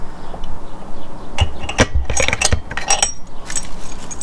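Spark plug wrench tightening the spark plug on a lawn mower: close metallic clicks, clinks and a ratcheting rattle in short bursts, with faint background noise between.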